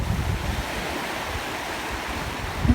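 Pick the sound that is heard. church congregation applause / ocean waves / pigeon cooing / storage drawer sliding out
ocean waves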